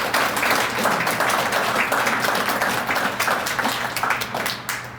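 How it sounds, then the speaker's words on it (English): Sustained applause from an audience at the 2023 Montana Statehood Centennial Bell Award ceremony, dense steady clapping filling the room for several seconds before easing slightly at the end. "Please give them a round of applause."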